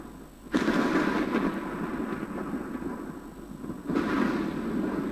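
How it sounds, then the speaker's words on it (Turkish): A long, heavy rumble of video game thunder from Life Is Strange rolls through during a storm, with a second loud crack and rumble near the end, broad and booming with no talking. "Bir gök gürültüsüyle girdik. Fırtına kopuyor şu anda."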